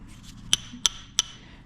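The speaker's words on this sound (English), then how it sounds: "So you hit the hammer" Three sharp, evenly spaced strikes of a twelve-tooth bush hammer on stone, each a bright metallic crack close by, with a quiet background.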